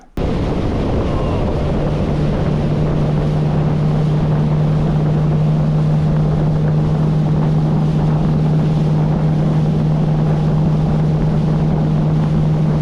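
A motorboat engine drones steadily and loudly as the boat cruises along a coastline on a hot day, with strong wind buffeting the microphone throughout.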